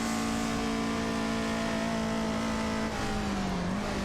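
A Toyota AE86 lapping the Nordschleife, its engine held at high, steady revs with a strained, buzzing whine, then dipping and rising again as the car slides through a corner, loud and continuous.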